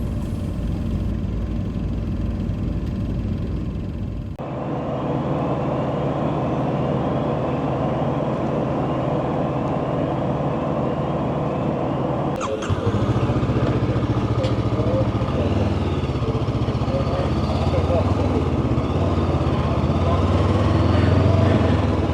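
Ferry engines rumbling as the vessel approaches a ramp on the Isle of Mull, Scotland, heard amid the steady low drone of idling motorcycle and vehicle engines in the boarding queue, continuous and fairly loud with a shift partway through.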